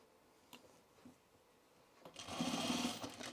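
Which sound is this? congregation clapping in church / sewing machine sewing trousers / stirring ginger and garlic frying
sewing machine sewing trousers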